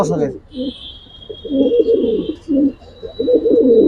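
Military hammer pigeons coo in low, throaty bursts that repeat through the clip, overlapping with a murmur of voices close by and a faint steady high whine.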